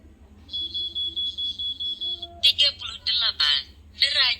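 Electronic warning alarm for body temperature above 38 °C: a steady, high-pitched tone sounding for about two seconds, then a synthesized voice speaking in short bursts, all close and clear over a low hum.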